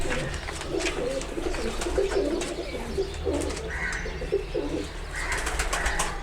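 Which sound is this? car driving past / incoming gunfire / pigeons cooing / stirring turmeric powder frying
pigeons cooing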